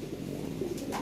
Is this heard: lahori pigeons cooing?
yes